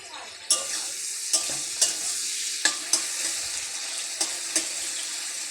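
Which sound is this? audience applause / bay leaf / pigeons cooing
bay leaf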